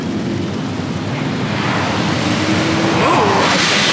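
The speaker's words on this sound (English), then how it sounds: "High pressure rinsing." High-pressure rinse jets in a Hodge car wash tunnel at Rocket Express in South Jordan, Utah, giving a steady, loud spray roar with broadband hiss. Mechanical whine rises near the end.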